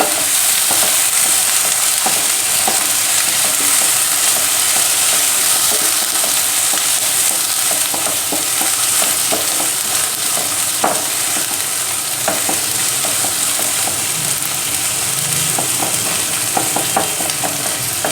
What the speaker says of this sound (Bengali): ততক্ষণ অবধি আমি এটাকে ভাজা ভাজা করব আদা রসুনটা